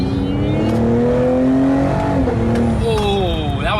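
A Cadillac CT5-V engine revs hard under acceleration, a loud, steady rising growl up close with a gear shift near the end, as people talk inside the car over it.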